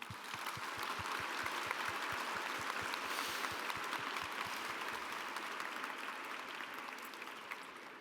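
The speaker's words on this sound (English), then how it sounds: "Let's give her another round of applause." Audience applause after a keynote talk at a neuroimaging conference, steady dense clapping heard from a distance at low level, continuing evenly for several seconds and tapering slightly at the end.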